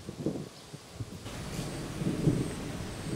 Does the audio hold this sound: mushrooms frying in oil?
no